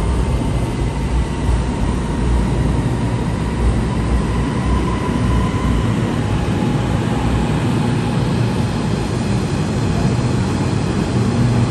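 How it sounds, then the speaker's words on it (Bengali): A Kuala Lumpur commuter train bound for Putrajaya gives a steady, loud low rumble and rolling rail noise, with a faint tonal whine partway through and no voices. "সো গাইজ, আমরা পুত্রাহাই ট্রেনে উঠে পড়বো"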